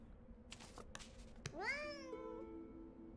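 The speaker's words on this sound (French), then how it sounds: "Je t'ai entendu, petit chat." A cat meows in Behind the Frame, preceded by a few soft clicks; one clear, rising-then-falling meow stands out near the middle against a quiet room hum.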